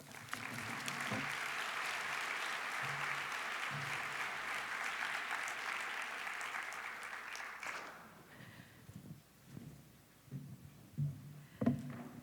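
Sustained audience applause welcoming speaker Leslie Crutchfield at a conference event, a dense crowd clapping for about eight seconds before fading into a few scattered claps and room noise.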